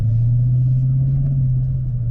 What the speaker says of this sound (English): I'm gonna floor it and see what happens.